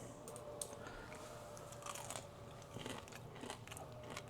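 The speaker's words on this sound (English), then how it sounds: "Got some good crunch, good flavor." Pan-fried perch and walleye with an almond coating being bitten and chewed, crisp crunches close to the mic that repeat in an uneven rhythm, with no talking.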